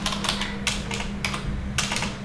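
Typing on a computer keyboard comes through as several short bursts of quick, close keystrokes separated by brief pauses, over a steady low hum and with no speech.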